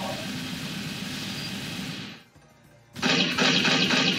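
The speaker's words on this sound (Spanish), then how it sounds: "el disparo" Rapid bursts of futuristic submachine gunfire in the video game Elsword crackle loudly, cut off by a brief near-silence before another dense volley resumes.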